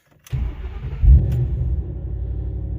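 A supercharged 2010 Ford GT500 engine cranks briefly and catches, then settles into a loud, steady idle rumble with a slight rev bump early on, heard close and without talk.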